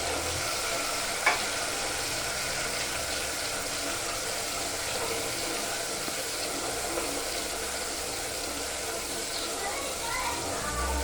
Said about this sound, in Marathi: आलं लसूण कोथिंबीरची पेस्ट चांगली तेलावरती परतून घ्यायची आहे